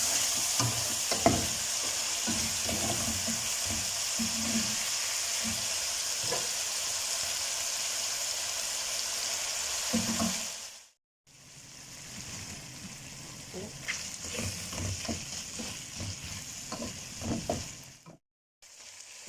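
Chopped onions frying in oil in a pan for chicken white karahi, with a steady close sizzle and repeated scraping stirs, briefly cut to near silence around the tenth second before the frying and stirring resume.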